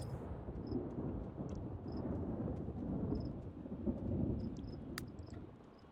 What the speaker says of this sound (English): I don't want you out in a thunderstorm.